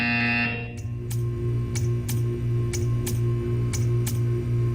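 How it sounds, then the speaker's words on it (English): A steady buzzer drones under a low hum, punctuated by a series of sharp, evenly spaced clicks, in the video game Portal 2. "When you hear the buzzer, stare at the art."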